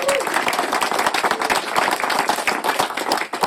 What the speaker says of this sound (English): let's give Sandy and Keith a big round of applause